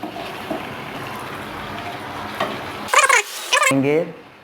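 Chicken karahi meat stir-fries in a pan with a steady sizzle and stirring throughout, and a few short voiced bursts break in near the end.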